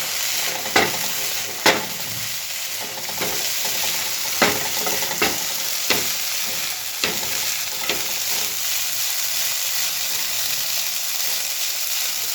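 Sabudana khichdi with crushed peanuts stirred gently in a hot pan, a continuous close sizzle punctuated by about a dozen spaced spatula scrapes and taps that thin out toward the end.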